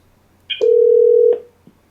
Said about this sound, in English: And then I'm going to dial the same number again. Click go. Calling.